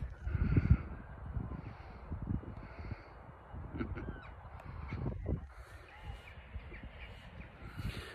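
Flock of rooks calling outdoors, a mass of hoarse, honking caws overlapping in a steady busy din, with a few louder close calls standing out early on.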